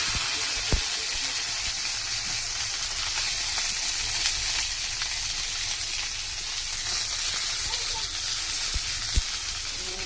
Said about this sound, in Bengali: তেল গরম হয়ে গেছে, ভিন্ডিটা তুলে দিচ্ছি